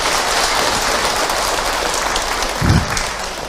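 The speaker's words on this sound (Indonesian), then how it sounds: "Tepuk tangan buat kita semua." A congregation at an Islamic religious lecture claps in a broad, sustained wash of applause filling the hall, steady and loud, with a brief low thump near the end.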